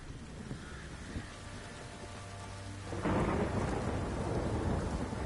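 Steady rain hisses through a thunderstorm in the video game Witcher 3 before a heavy rumble of thunder rolls in about halfway and swells the downpour louder.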